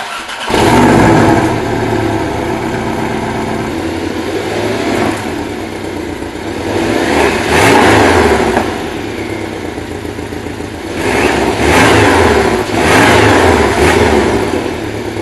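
2017 Porsche 718 Cayman with the sports exhaust off and a 4,000 RPM rev limiter starts up, then revs in three distinct rising bursts between a steady idle, loud and close.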